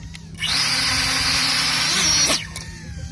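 A 5-inch FPV quadcopter drone with its motors idling at about 11% minimum throttle, a steady high whirring whine that starts abruptly, holds loud and close for about two seconds, then cuts off.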